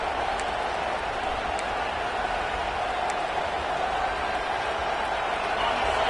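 Steady wash of stadium crowd noise in a Madden football video game, a continuous roar at even loudness throughout with no talk in the clip.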